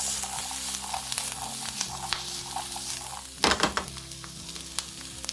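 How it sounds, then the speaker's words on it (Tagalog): Tough pechay (bok choy) stems stir-fry in a hot pan, a steady close sizzle with a sharp scraping stir midway and scattered crackles and pops, no talking. "dagdag natin yung matigas sa part ng pichay. Okay. Mikos-mikos lang guys."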